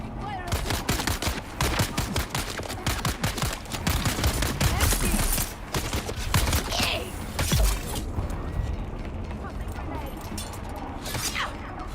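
Rapid bursts of gunfire in the Dune Awakening desert survival game, dense volleys of sharp shots close by that thin out into scattered single cracks.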